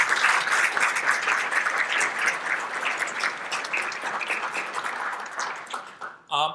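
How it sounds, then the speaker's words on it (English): Crowd applause fills the room, a dense steady patter of many hands clapping that fades slightly near the end before a brief final burst. "So let's also give them a round of applause."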